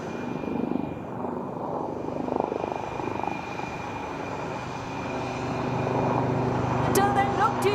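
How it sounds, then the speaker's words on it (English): A light combat helicopter flies past at an air show, its rotor and engine roar building steadily, with a commentator talking over it. "look to your left as there comes the light combat helicopter"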